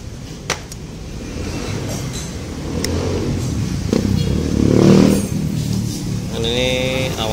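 Yamaha Mio scooter engine starting and revving during carburetor repair, a steady close engine drone that swells and peaks midway, with brief sharp clicks and a rising whine near the end.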